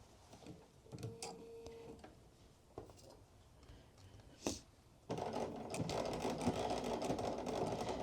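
A sewing machine stitches along a hoodie seam, running in a steady, fairly loud whir from midway on after quieter handling noises and a few clicks at the start.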